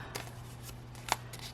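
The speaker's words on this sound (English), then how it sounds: "Fold it in half" Paper being folded in half for a junk journal flower: soft papery rustling throughout, with one sharper crisp crease snap near the end, close and quiet with no talking.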